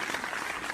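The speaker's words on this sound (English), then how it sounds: "you're clapping that I haven't done any lives?" An audience claps in a short, dense burst of applause at moderate level, heard on its own.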